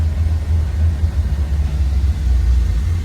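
Big-block V8 in a 1955 Chevrolet Bel Air given a little gas: a deep, loud low rumble with slight surges, close by and heard alone for about three seconds.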